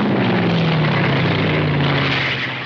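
Roaring propeller engines of WWII fighter aircraft over Dieppe, a loud, dense, continuous drone with a slowly falling pitch as the planes pass, no voices.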